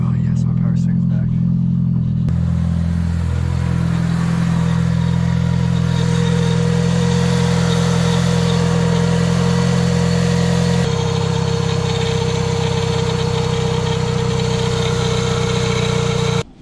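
A Volkswagen Jetta engine cranks and catches, then idles with a loud, steady, close rumble that continues to the end.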